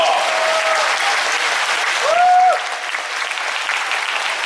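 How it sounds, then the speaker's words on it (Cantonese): Steady, dense applause from a theatre audience at a Cantonese opera curtain call, sustained throughout at moderate loudness, with a brief sliding tone rising over it midway. "其實你哋都好厲害，都要俾掌聲你自己喎"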